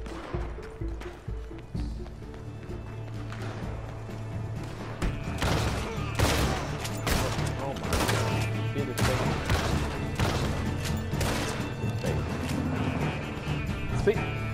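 Gunfire in Red Dead Redemption 2 Online, a run of sharp, loud shots from about five seconds on, stacked over a steady bed of game music and ambience.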